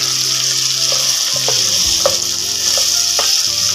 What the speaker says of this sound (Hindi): आलूओं को अच्छे से फ्राई कर लेंगे।